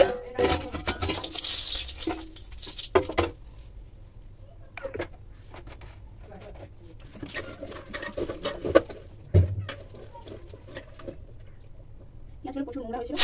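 Dried red chillies fry in a pan, a crackling, popping sizzle that comes and goes in bursts, close by, while a person talks over it.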